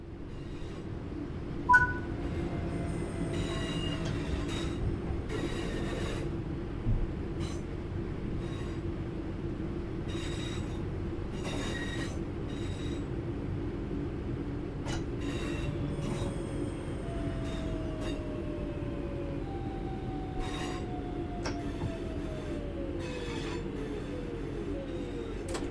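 A train in Train Sim World 6 slows to a stop, a steady low rumble of running gear with repeated clanks and drawn-out, descending wheel squeals, all heard alone without talk.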